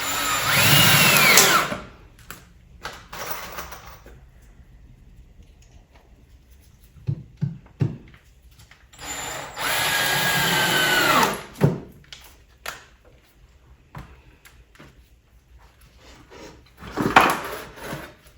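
A power drill drives screws into wooden boards while building a DIY swarm trap, with several loud whining bursts that rise and fall in pitch, and clunks of handling the wood between them.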